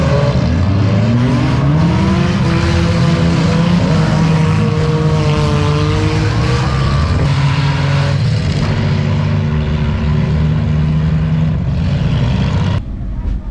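Race cars roaring around the track at Octane Fest 2022, a night of dirt-track racing: a loud, steady engine drone with pitch rising and falling as the cars pass, and muffled voices mixed in.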